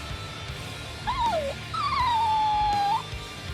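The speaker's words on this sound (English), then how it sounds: "We were merely trying to rescue the dog from that suspicious-looking man." A stray dog whimpers in the video game Bleach Rebirth of Souls, two rising and falling whiny cries, the second longer and drawn out, over a low game background.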